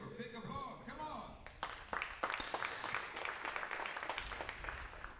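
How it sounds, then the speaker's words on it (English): At a 10 m standing rifle final for visually impaired shooters, a voice speaks briefly before a crowd breaks into applause, the clapping starting in scattered claps and thickening into a sustained round. "here, big applause, come on!"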